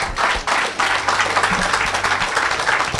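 A church congregation applauds steadily, a dense wash of clapping from many hands filling the room for a few seconds, with little or no voice above it.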